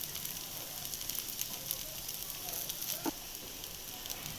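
Pesarattu, a green gram dosa, frying in oil on a pan over medium flame, giving a steady close sizzle and crackle with no talk.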